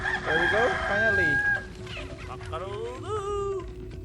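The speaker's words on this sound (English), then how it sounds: "Cock-a-doodle-doo." Rooster crowing in Resident Evil 4, a clear game sound effect heard twice at moderate level, with a voice briefly speaking alongside.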